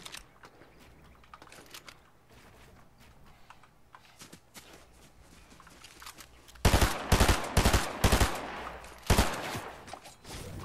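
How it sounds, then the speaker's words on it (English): Gunshots in the video game Fortnite during a Solo Cash Cup match, beginning as faint distant pops and then becoming a loud, close cluster of rapid shots in quick bursts. "Warning shot. I definitely meant to shoot there."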